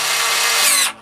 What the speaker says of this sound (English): I'm going to take my drill and I'm going to put a little pre-hole right here